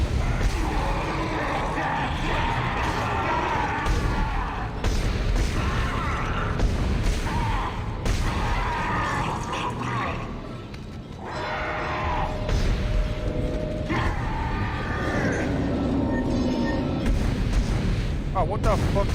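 Gunfire strikes a wall in the Dead Space survival-horror game, a dense run of loud, steady shots and metallic impacts that carries on with only a short dip in the middle.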